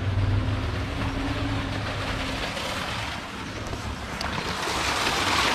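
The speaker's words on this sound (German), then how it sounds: "Das ist schön, der Bach." A brook flowing beside a village path below a castle in the Wiesent river valley, a steady broadband rush of water mixed with wind buffeting the microphone, continuous and fairly close, without talk.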